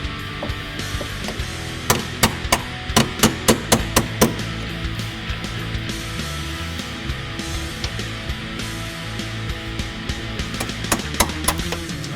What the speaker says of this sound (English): you'll need a small punch, just hammer it out from the center